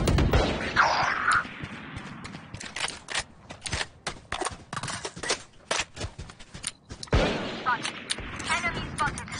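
Rapid gunshots ring out in Valorant, sharp cracks fired in quick bursts and scattered single shots over several seconds, loud and close, with speech-like game audio mixed in.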